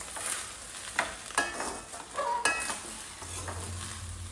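A spoon stirs and mixes tamarind chitranna with chopped coriander and fresh grated coconut in a pan, giving a few soft scrapes and clinks over a faint low hum, quiet and close.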